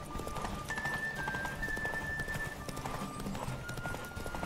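A horse gallops in The Witcher 3, rapid rhythmic hoofbeats clopping steadily up close alongside faint game music tones.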